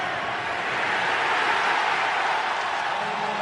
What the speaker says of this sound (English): This Tennessee crowd strongly behind its defense